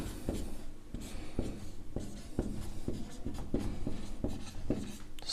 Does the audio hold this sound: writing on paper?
yes